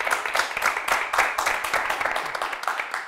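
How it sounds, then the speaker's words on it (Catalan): Audience on a Catalan school quiz TV show claps for the contestant team, a sustained, lively burst of many hands clapping throughout at close range. "Un fort aplaudiment per ells."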